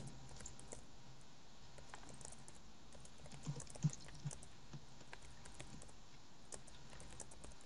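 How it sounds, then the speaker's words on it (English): Faint computer keyboard typing sits low under a quiet room hum, with soft scattered clicks and one slightly louder tap near the middle. No one speaks. "Someone's typing before it's night time"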